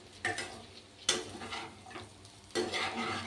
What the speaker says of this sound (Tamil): நல்லா கைவிடாமல் நல்லா கிளறிடுங்க